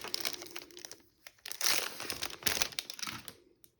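An AliExpress package is opened up close, its plastic and paper wrapping crinkling and crumpling in quick irregular bursts with brief pauses.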